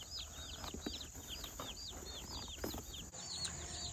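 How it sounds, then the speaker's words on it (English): Baby chicks cheep constantly in high, rapid peeps. The sound is faint and distant over a steady background hum, with no voices. "As you can see, we got some chicks."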